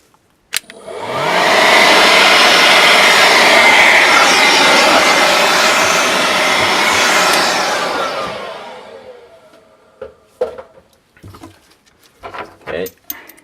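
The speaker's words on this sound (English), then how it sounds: "I'm gonna blow it again with some air." Compressed air blasts hard at the fuel tank bolts of a Mitsubishi Pajero 2.8 to clear loose dirt, one loud steady hiss lasting about eight seconds before tapering off, followed by a few clanks and handling noises.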